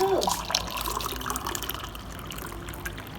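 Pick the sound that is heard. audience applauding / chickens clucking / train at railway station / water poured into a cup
water poured into a cup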